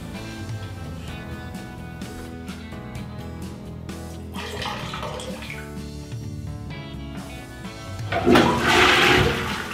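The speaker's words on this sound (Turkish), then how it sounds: "Lolacığım, tabii ki bunu klozete dökeceğim ve sifonu çekeceğim" A toilet flushes with a loud rushing gurgle of water, swelling into a strong swirl near the end with no talking.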